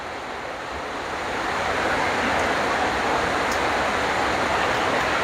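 Steady broadband rush of rain drumming on a roof, continuous and fairly loud, swelling slightly after the first second with no voices.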